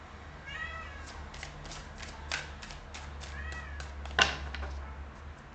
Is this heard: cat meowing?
yes